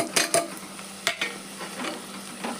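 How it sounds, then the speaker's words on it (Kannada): Vegetables and garlic paste in hot oil for a vegetable pulao, a soft steady sizzle with a few sharp scrapes and clinks of a spoon stirring in the pan, close and moderate in level. "ಎಣ್ಣೆ ಒಳಗೆ ಫ್ರೈ ಆಗತ್ತವೆ"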